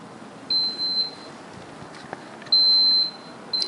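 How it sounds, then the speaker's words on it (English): An Intel server gives a few high, steady electronic beeps while powering down, spaced apart over a quiet, low hum. "it does beep a little bit when you do power it down"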